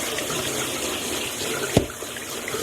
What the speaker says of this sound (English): Okay, so I drain it and I rinse it really well.